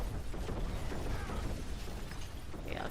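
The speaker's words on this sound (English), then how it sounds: "Just hear explosions non-stop." Explosions from traps keep going off in Diablo IV as a Rogue levels up, a dense, continuous roar of bursts and crackles with rattling debris at moderate loudness and no speech.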